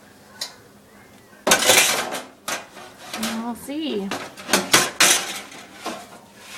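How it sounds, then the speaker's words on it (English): Dishes and cutlery clatter and rattle as an overfull kitchen drawer is pushed shut, with several loud, jangling bursts of metal and crockery up close and a person speaking briefly between them. "Are you going to be able to shut the drawer?"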